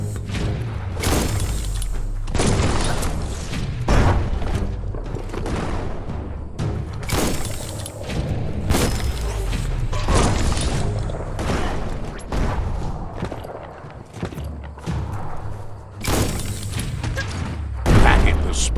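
Bomb lobber explosions in the video game Biomutant: repeated heavy blasts and thuds land every second or two with crashing, shattering debris, alongside a voice talking over the action.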